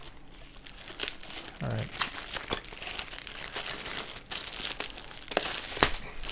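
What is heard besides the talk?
unwrapping taped packaging of Halloween animatronic pieces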